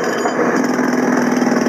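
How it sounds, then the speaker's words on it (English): Jackhammers and heavy equipment work at night on a sinkhole repair site in Bay Ridge, Brooklyn, making a steady, loud mechanical din with a sustained droning tone running through the short stretch. "The sounds of jackhammers and heavy equipment echo through this section of Bay Ridge, Brooklyn"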